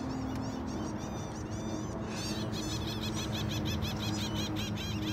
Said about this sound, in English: Those birds are really freaking me out.